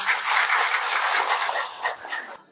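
Audience at a large Indonesian opposition movement gathering breaking into loud, close applause, dense clapping that swells and then tapers off over a couple of seconds.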